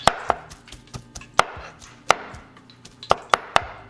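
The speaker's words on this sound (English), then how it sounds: "Or you can chop it up a little bit finer if you want" Knife chopping cooked pork carnitas on a cutting board: sharp, close knocks in an irregular run of about a dozen strikes, with no voices.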